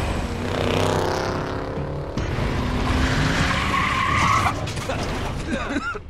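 Tires skid and squeal as a car slides in the Tales From The Borderlands video game, a loud sustained screech with engine noise lasting several seconds, then tapering off.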